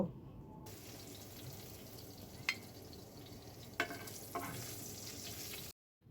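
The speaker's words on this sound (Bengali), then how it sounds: "এখন এই কাঁচামরিচ পেঁয়াজ এবং রসুনটাকেও আমি একটু লাল লাল করে ভেজে নিলাম" Onion, garlic and green chilies frying in oil for a green bean mash, giving a steady close sizzle with a few sharp crackles and pops, and no talk.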